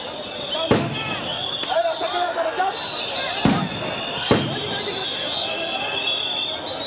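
Police sound grenades go off during a teachers' protest at Shahbag, three sharp loud blasts spaced seconds apart over a constant din of crowd noise, shouting and sirens.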